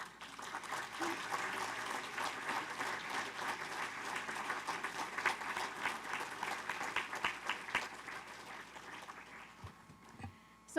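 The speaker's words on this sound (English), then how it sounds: "please give them a round of applause" A room full of people applauds Paramount city staff at a chamber event, a dense, steady wash of many hands clapping that holds for about ten seconds before thinning out near the end.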